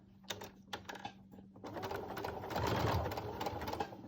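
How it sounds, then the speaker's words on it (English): A home sewing machine stitches fabric for a face mask while pivoting around a corner, starting with a few separate taps and clicks before settling into a faint, steady whirring run. "sometimes your machine, when you're turning those corners, you might need to give it a little bit of a shove to get the fabric going through again"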